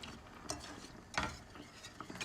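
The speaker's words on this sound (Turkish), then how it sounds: "Ve tekrar çırpıcımla karıştırıyorum." Wire whisk stirring milk into a béchamel-style mixture in a pot, faint scraping and clicking strokes at an uneven rhythm, quiet and close with no talking.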